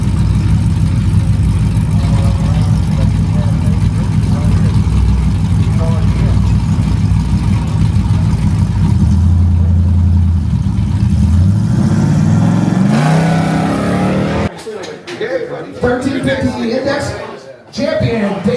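A tuned, naturally aspirated Ram truck with a HEMI engine drag racing an orange HEMI Challenger in a King of the Hill round, its loud steady engine drone climbing in a rev near the end before a sudden burst of broad noise with voices.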